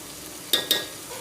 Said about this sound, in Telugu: చికెన్ ఇంకాస్త ఫ్రై కావాలి కానివ్వాలి ఫ్రెండ్స్